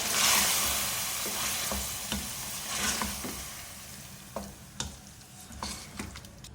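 Two medium tomatoes, blended, stirred into minced meat qeema frying in a pan: soft sizzling and close scraping, with a hiss that swells and fades and a few clicks of the spoon against the pan, and no voices.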